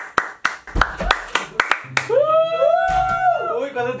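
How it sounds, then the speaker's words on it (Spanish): An audience breaks into brisk hand clapping, a run of sharp claps for about two seconds, then a voice takes over with drawn-out excited speech while the clapping fades. "Un aplauso igual"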